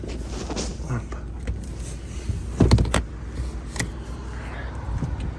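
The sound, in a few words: folding rear seats of Chevrolet Captiva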